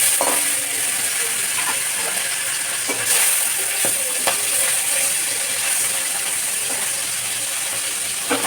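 Parshe fish fries in hot oil in a wok. A steady, bright sizzle runs throughout, with small pops and crackles scattered through it.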